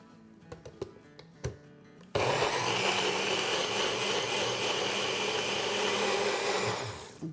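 A blender grinds a chutney of raw mango sourness and tamarind, starting abruptly after a few faint clicks and knocks, then roaring steadily and loudly for about five seconds before winding down.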